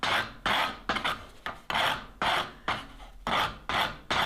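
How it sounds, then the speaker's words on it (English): The coarse side of a rasp filing a wooden replacement handle for a rounding hammer, making harsh back-and-forth strokes about twice a second, close and loud with short pauses, no voices. "I'm gonna go with the rough side of the rasp"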